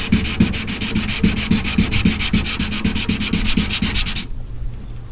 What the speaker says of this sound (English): we're gonna take some sandpaper and scuff it up a little bit more before we put some fill in it